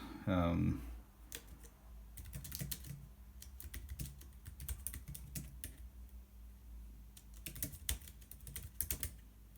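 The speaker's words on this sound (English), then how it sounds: "So let's see the experience of typing a note." Rapid, irregular tapping on a Jelly Comb folding Bluetooth keyboard for iPad clatters up close, with bursts of keystrokes and short pauses, after a brief voice at the start.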